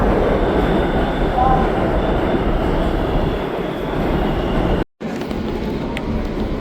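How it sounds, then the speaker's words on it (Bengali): A New York subway train rumbles steadily at a platform, a loud continuous roar with faint metallic squeals, briefly cutting out before resuming. "এটা হচ্ছে ট্রেন আর এটা হচ্ছে প্ল্যাটফর্ম।"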